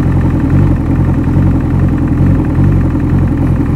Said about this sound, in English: as you can see, I'm at idle. Your engine speed RPM 640 688, so we're idling there